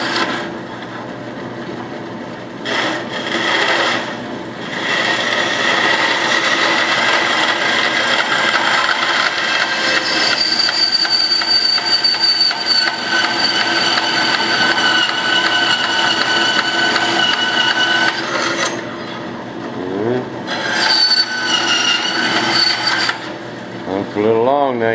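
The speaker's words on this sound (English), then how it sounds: "That blade cuts this aluminum so good it don't even get hot" A saw blade cuts aluminum in a sustained, bright, gritty whine lasting many seconds, with short pauses and a couple of separate bursts of cutting toward the end.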